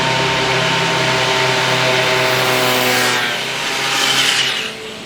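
Loud, sustained roar of motorcycles revving with steady harmonic tones, rising and falling slightly, fading near the end.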